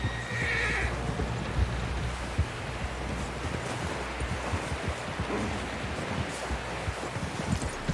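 A horse in Red Dead Redemption 2 whinnies loudly near the start, followed by steady clip-clopping hooves and rustling over an outdoor ambience.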